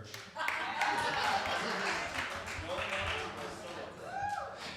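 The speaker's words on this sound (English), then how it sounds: "round of applause if you know about No Nut November" Crowd at a stand-up comedy show giving a round of applause and clapping, a mid-level wash of hands with cheering and talking voices mixed in.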